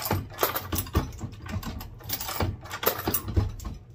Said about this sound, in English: get your Lee Pro 1000 223 Progressive Reload Case Feeder running like this